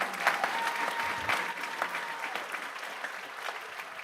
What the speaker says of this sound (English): How about a big round of applause for all those students?